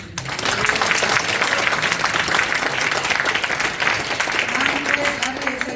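A gathering at a Thanksgiving prayer service in a National Assembly meeting room breaks into applause, a full, continuous wave of clapping with faint murmuring voices beneath.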